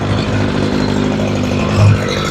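A Ryobi weed eater engine revs during carburetor tuning, a loud close two-stroke buzz held steady with a brief rise in pitch near the end.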